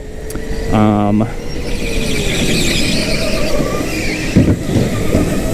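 Go-kart engine buzzing close by as the tyres give a short, sharp squeal while sliding through a turn on an indoor karting track, followed by steady engine drone with a few rough thumps.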